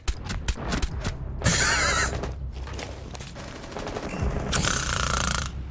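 Gunfire in the video game Rainbow Six Siege, bursts of rapid shots and mechanical clatter at moderate level, with a couple of sharp louder volleys amid quieter in-game noise and no speech.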